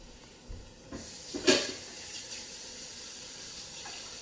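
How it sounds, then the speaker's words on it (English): Running tap water at a sink as a kitchen knife is rinsed, a steady soft hiss with a brief louder splash early on, close and without speech. "Knives, I like to just wash and get rid of right away"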